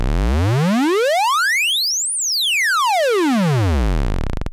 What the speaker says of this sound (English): pulse wave